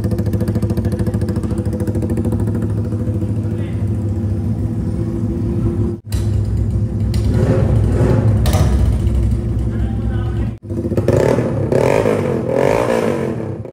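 A Royal Enfield Bullet 350cc motorcycle fitted with a loud aftermarket silencer rumbles nearby, a deep steady thump with brief revs and throttle drops, while people talk over the engine.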